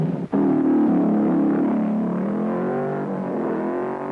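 A twin-engine hill climb race car at Shelsley Walsh roars loudly and continuously nearby, its pitch rising and falling slightly as it accelerates.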